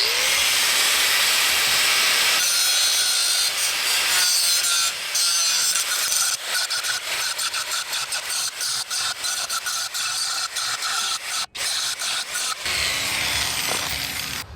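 Grinding on metal during a power trailer jack replacement, a loud continuous abrasive rasp that runs unbroken for the whole stretch, wavering in intensity with brief dips, and no talking over it.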